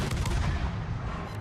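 A torpedo launched in a naval warship game lands as a single heavy, booming blast, loud and close, with a rumbling low-end thud that fades over a second or so.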